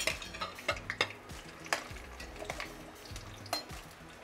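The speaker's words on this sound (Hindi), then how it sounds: "तेल गरम हो गया, अब हम इसमें भिंडी डाल देंगे।" Okra fries in hot oil in a kadai while a spatula stirs and scrapes the pan, making repeated clinks and knocks over a soft, steady sizzle, close by and with no talking.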